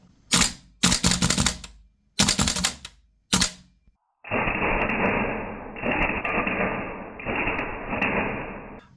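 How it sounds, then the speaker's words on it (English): A gas blowback airsoft rifle fires several sharp, loud shots close by, irregularly spaced, followed by a steady hiss of gas venting in three long bursts. "Here are some more shots for you guys to see the recoil, because this baby kicks."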